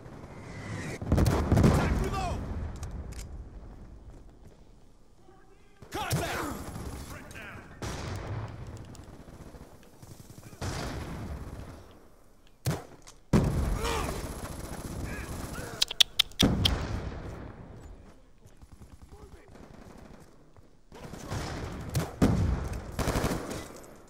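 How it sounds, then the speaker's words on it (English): Hellstorm missile strike in Black Ops 2, heard as loud bursts of explosive gunfire and impact blasts that come in several separate clusters across the span, with game speech between them. "Friendly Hellstorm missile inbound."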